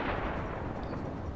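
A submarine deck gun in the Uboat video game fires armor-piercing shells, giving a dense, booming blast whose rumble fills the moment without pause.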